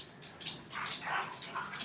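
Two dogs wrestling indoors, giving soft whimpers and yips in a few short bursts, faint and nearby.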